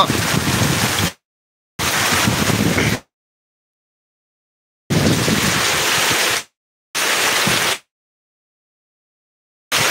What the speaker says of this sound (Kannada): ಭೂಮಿಯಲ್ಲಿ ಮಳೆ ಆಗ್ತಾ ಇದೆ